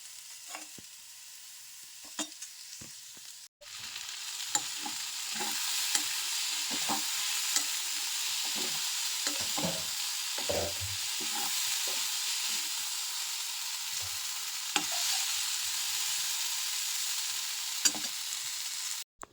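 Moth bean usal (matki) being stirred and fried in a pan, with steady sizzling and frying throughout and repeated scrapes and clinks of a spoon against the pan, close and fairly loud with no talking.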